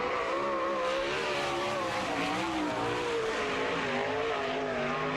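A sprint car, the number 92K of the All Star Circuit of Champions, races hard on the throttle at Lawrenceburg Speedway in Indiana, its engine a loud, sustained high-pitched howl with wavering revs throughout.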